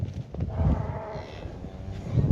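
Cows on a farm in February, with a couple of low, drawn-out moos at close range over a quiet rustling background.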